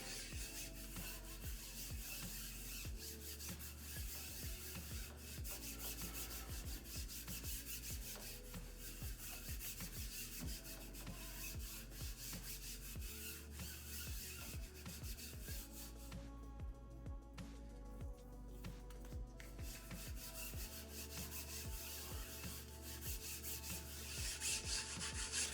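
Paint being rubbed into the corners of a wooden piece, a continuous close scrubbing and rubbing texture that runs steadily throughout with no talking.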